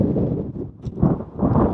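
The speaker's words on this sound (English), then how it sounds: "It is windy, as you can probably hear through the microphone." Gusty wind buffets an outdoor microphone on a blustery day, producing a loud, low, uneven rumble that surges and dips through the whole short stretch, with no talking.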